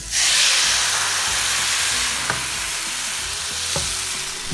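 Vietnamese bánh xèo batter hits a very hot oiled pan with a loud burst of sizzling, which settles into a steady frying hiss with a few light clicks of the pan.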